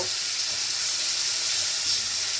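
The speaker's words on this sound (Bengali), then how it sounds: "এবার ভালো করে মশলার সাথে আলু কষিয়ে নেব" Potatoes frying with spices in a pan give off a steady, even sizzle and hiss, close and moderately loud, with no talking over it.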